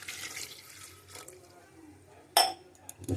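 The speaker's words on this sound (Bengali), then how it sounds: "পরিমাণ মতন জল দিয়ে দেবেন।" Water poured into a cooking pot holding bay leaves and turmeric for chana paneer: a brief rushing pour at the start that fades, followed by a sharp metallic clank and a softer knock.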